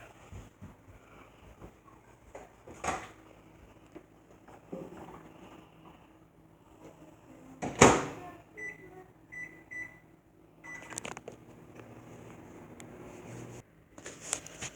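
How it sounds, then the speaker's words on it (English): A steady low hum of a microwave running for two minutes with a lidded muffin dish inside, with a few sharp clicks and a brief louder burst partway through, fairly quiet overall. "put it into the microwave for 2 minutes."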